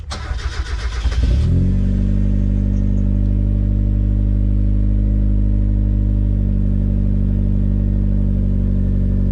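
A Mazda Miata fitted with hardtop brackets cranks briefly and fires up, then settles into a loud, steady idle with a slight rev, running alone with no talk.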